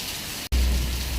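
Heavy rain pours down in the Kodambakkam area, a dense, steady roar of drops hitting surfaces, loud and close, cutting out for a split second before resuming just as hard. No one speaks.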